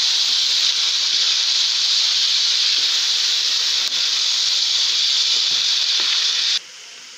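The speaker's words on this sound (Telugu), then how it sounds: "కట్ చేసి పెట్టుకున్న సొరకాయ ముక్కలు వేసుకుందాం। అలాగే పచ్చిమిర్చి వేసుకుందాం। వీటిని ఇలా బాగా ఫ్రై అయ్యేంత వరకు ఫ్రై చేసుకుందాం।" Bottle gourd pieces and green chillies frying in a hot pan, a loud continuous hiss and sizzle lasting several seconds before it drops away abruptly near the end.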